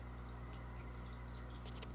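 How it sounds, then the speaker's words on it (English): Water current from an internal canister filter in an aquarium, a faint steady rush and trickle of flowing water over a constant low hum. "the current in this tank from this filter is insane"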